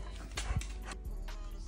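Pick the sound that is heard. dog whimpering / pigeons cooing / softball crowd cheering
dog whimpering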